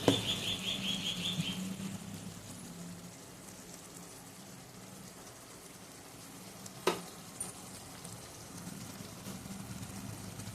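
A yogurt fish curry with potol simmers in a pan, giving a soft, low bubbling hiss throughout, with a faint clink of utensils partway through.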